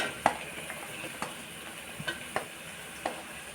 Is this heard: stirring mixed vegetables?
yes